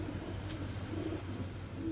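Racing pigeons in a loft coo softly, including a male bird, with a steady low murmur of overlapping calls running close and continuous throughout.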